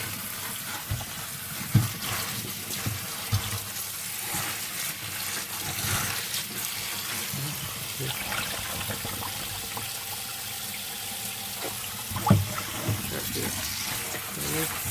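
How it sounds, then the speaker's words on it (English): Spinach leaves being washed and separated by hand in a sink full of water, a steady soft sloshing and swishing with occasional louder splashes and clunks, close and continuous at low level. "I'm gonna wash the other one again and separate it by hand"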